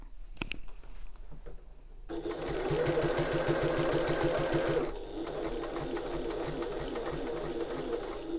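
A sewing machine running steadily while top stitching a tote bag, a continuous close, even rattle that starts after a brief quiet lead-in and keeps going with no voices.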